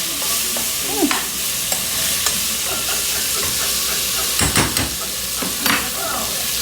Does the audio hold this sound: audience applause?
no